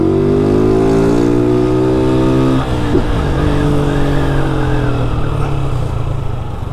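A Honda CG 160 Start motorcycle revs loudly close by as it rides off, the engine pitch climbing through gears, then dropping and settling into a steady running drone.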